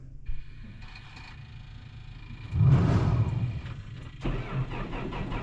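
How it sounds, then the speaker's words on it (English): Tractor engine cranking, catching and firing up: low idle rumble with faint clicks, a loud surge as it starts, then a brief dip and a steady running rumble. "I thought the tractor was dead. It clicked a couple times, and then after the third time, it fired up."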